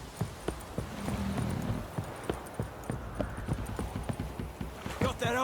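Horse hooves clip-clop at a steady walking rhythm in The Witcher 3, close by, with a faint murmur of voices underneath and a brief rattle at the end.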